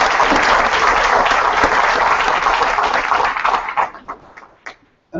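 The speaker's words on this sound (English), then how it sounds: "So this will give him a huge big round of applause for all of you" An audience at a community forum for Los Angeles County sheriff candidates breaks into vigorous, steady applause. It holds strong for several seconds, then tapers quickly into a few last claps before silence.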